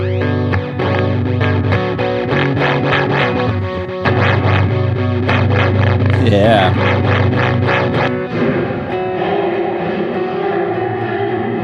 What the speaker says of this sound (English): You were just hearing that modulation, but we can dial that out